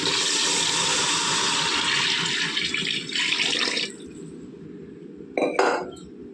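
Water pours steadily into a cooking pot for whole masoor dal pulao, a loud continuous splashing gush that stops suddenly, followed by a brief second splash.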